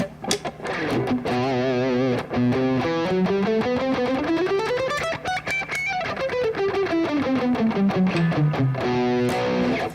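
Loud distorted electric guitar playing a rising and then falling run of sustained notes, thick and saturated, with no voices.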